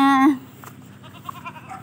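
A goat on a farm gives a single loud bleat at the start, close to the microphone, then quiet rustling and faint background sounds follow.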